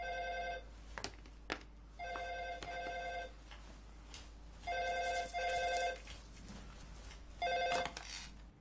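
A telephone rings in four repeated bursts with short gaps between them, steady and fairly clear over a low background hum, with no one speaking.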